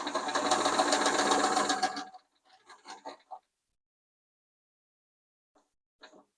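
A 1964 Sears Kenmore Model 158.523 sewing machine stitches rapidly for about two seconds in a close, loud mechanical rattle, followed by a few faint scattered clicks and silence.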